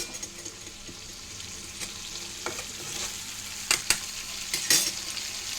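Ginger, garlic and cumin paste fries in a pan with a soft continuous sizzle, broken by a few louder scraping stirs toward the end, no one speaking.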